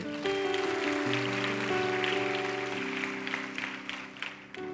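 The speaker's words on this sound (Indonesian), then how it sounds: "Tepuk tangan buat Tuhan." Congregation at a worship service clapping continuously throughout, a steady wash of hands beneath sustained keyboard and band music, fairly loud and even.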